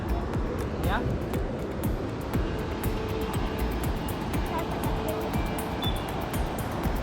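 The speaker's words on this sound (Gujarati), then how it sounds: "મિત્રો આ છે ગિરમાળ ધોધ" The Girmal waterfall near Saputara pours with a steady, broad roar of falling water that holds evenly throughout, while a person talks over it.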